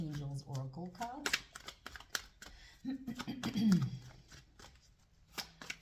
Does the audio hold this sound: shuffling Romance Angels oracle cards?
yes